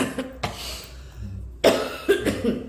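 Several coughs come in bursts, a couple of quick single hacks followed by a rougher double cough, close to the listener.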